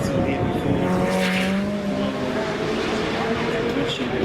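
A supercar engine runs at the Goodwood Festival of Speed. Its steady, tonal drone holds strongly throughout, with a brief rising note partway in, under outdoor crowd ambience.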